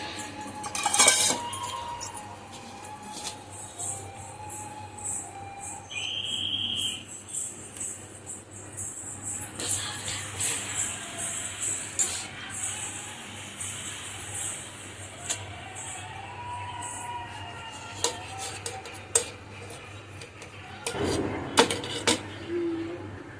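A knife slicing through an eggless rava (semolina) cake in a home kitchen, with scattered light clinks and taps of utensil against plate, close and fairly quiet over a steady background hum.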